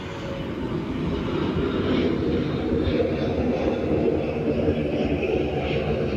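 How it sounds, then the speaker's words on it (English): A fixed-wing airplane passes overhead as a steady, loud low roar that holds through the whole stretch with a faint hiss above it, and no talking is heard. "I'm going to wait for this airplane."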